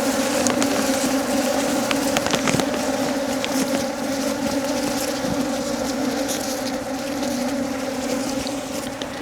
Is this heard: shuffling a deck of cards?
no